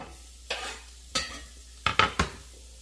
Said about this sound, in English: we'll put the onions in this pan